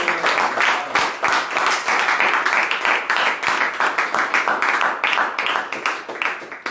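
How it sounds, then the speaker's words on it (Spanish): Worshippers at a church service clap together in a moderately sized round of applause, individual hand claps audible in a fairly quick, irregular patter that carries on for several seconds. "Un aplauso."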